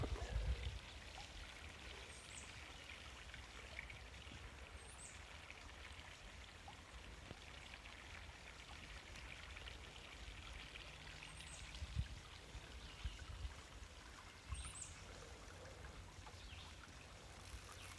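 Creek water flows and trickles steadily along a North Country Trail day hike, a faint, continuous outdoor wash with occasional small splashes and bird chirps in the distance.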